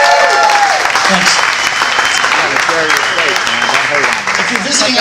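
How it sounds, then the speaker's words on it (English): An audience at a live storytelling show breaks into loud, sustained clapping that gradually thins out, with a voice speaking over the applause. "This is the point where you applaud."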